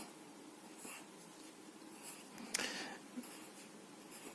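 Quick pencil strokes on paper, faint soft scratchy swishes in short bursts close to the microphone, with one sharper tap midway.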